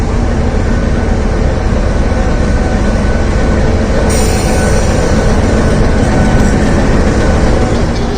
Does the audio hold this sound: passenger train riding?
yes